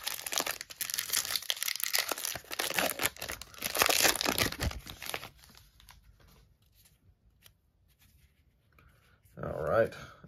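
Crinkling and tearing of a foil wrapper as a 2023 Topps Pro Debut baseball card pack is ripped open, a loud rustling burst over the first few seconds that fades, then a short crinkle near the end.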